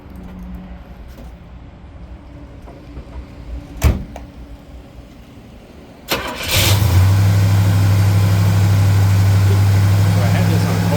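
A 1965 Pontiac GTO's 389 V8 cranks and fires after a quiet stretch with a couple of knocks, then settles into a loud, steady, rumbling idle close by.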